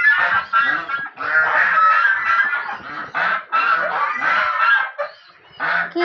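Domestic geese honk and call repeatedly near a pond, a loud, close flock of overlapping nasal honks in rapid bursts with short pauses between.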